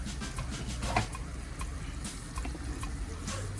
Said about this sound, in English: You add a little water to your sauce.